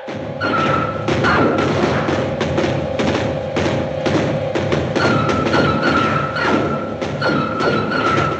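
An artillery battery fires in a 1956 science-fiction film, a dense run of heavy booming thuds over a continuous droning hum, with a loud, sustained soundtrack texture throughout.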